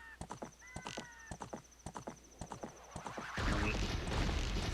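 A horse in the video game Ocarina of Time gallops with quick, steady clip-clop hoofbeats and lets out a loud whinny, then a louder rumbling burst of game sound takes over near the end.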